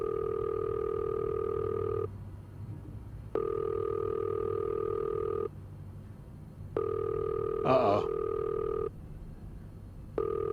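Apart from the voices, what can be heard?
telephone ringing unanswered in the video game This Bed We Made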